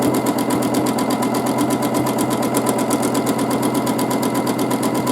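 A sewing machine doing free motion quilting runs continuously with a loud, close, rapid mechanical rattle and steady hum, with no talking over it.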